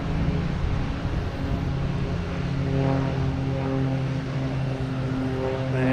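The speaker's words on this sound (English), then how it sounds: "Condor's next to land on 22 left." A Condor airliner comes in to land on runway 22 left at Boston Logan, its engines making a steady, loud roar with a sustained droning hum and slowly shifting tones. It is heard from a distance in the open air, with no voices over it.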